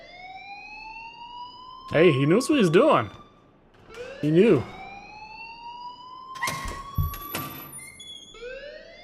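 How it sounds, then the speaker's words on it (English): An alarm wails in the game Life is Strange, a rising siren tone that sweeps upward repeatedly, with warbling bursts between, while someone talks over it. "please turn off that alarm since that's your job"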